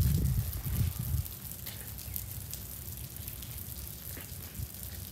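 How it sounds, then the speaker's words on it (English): Cold drizzling rain falls outside a house during a Louisiana winter storm, making a steady, soft hiss and patter with a heavier low rumble in the first second, then an even wash of fine droplets throughout. "I'm standing out in the drizzling, cold rain to show you this"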